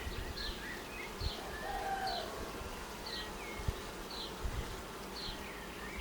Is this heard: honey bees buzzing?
yes